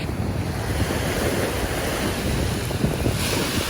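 Ocean surf washing onto a beach at West Palm, Florida, a steady roar of breaking waves with wind buffeting the microphone throughout, close and loud with no talking.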